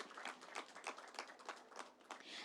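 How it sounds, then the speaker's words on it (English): Faint, scattered clapping from a small crowd at a ribbon-cutting ceremony, soft and distant, continuing steadily for a couple of seconds. "Please, a round of applause for him."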